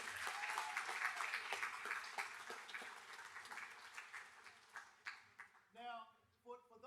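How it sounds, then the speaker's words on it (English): Audience applause at a scholars luncheon, a dense wash of many hands clapping that gradually thins out, with a voice beginning to speak near the end. "let's give yourselves another round of applause"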